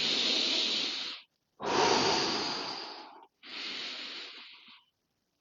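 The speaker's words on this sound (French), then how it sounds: "dans cette position, on va faire quelques respirations, quelques bonnes respirations." Three long, deep breaths sound close to the mic, each a loud breathy rush followed by a short pause, during a meditation exercise.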